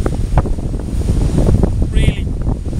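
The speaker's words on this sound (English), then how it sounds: "really windy at the moment." Strong gusty wind buffets the microphone on an outdoor walk near Denbigh, a loud rumbling roar that surges and dips throughout with no clear voice over it.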